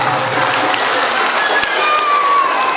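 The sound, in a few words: audience applause at a sermon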